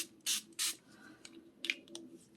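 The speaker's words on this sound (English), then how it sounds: "I've got my little spray bottle," Two short hissing sprays of water from a nearby spray bottle, then a couple of fainter spritzes, with quiet room noise underneath.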